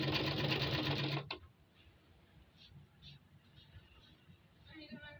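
A sewing machine stitches a frock, running in a loud, fast rattling whir for just over a second and then stopping abruptly, followed by quiet room sound.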